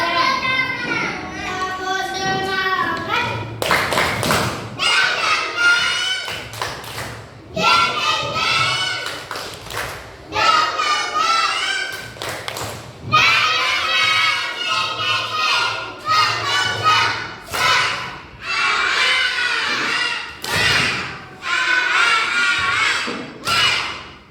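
Children's group rhythmic clapping cheer in an Indonesian classroom, bursts of sharp patterned claps alternating with lively children's voices and shouts, loud and close.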